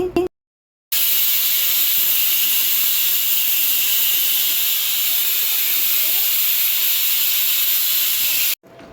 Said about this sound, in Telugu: ఒక ఐదు ఆరు విజిల్స్ వచ్చేంత వరకు కూడా ఉంచేసుకోండి